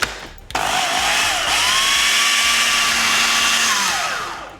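A blender whizzes cashew cream with freeze-dried raspberries, starting with a sharp motor whine that holds loud and steady before winding down at the end.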